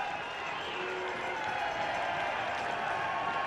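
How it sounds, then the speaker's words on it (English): Football supporters at the 2023 Chatham Cup Final between Christchurch United and Melville United, making a steady distant crowd roar with scattered clapping and cheering, a modest but continuous wash of noise. "Melville's fans are trying to find full voice and urge their team with vocal support"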